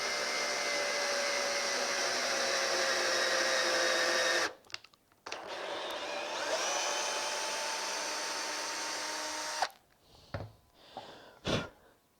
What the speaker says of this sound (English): I'm just putting my 8mm tap into my drill, turning it on low so it doesn't, and just let it slowly work its way into the wood